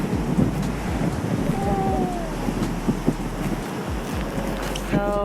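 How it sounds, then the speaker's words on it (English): Ocean waves break along the seashore at Acre, Israel, in a loud, continuous roar of surf with heavy wind buffeting the microphone and faint background sounds. "The waves are amazing right now."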